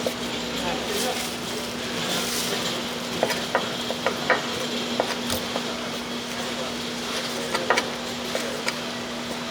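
A big pot of handmade Korean sundae (blood sausage) boils steadily in a restaurant kitchen, giving a constant bubbling, sizzling hiss with occasional clinks and stirring taps, while a steady hum runs underneath.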